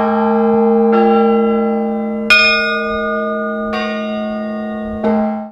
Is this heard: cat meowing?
no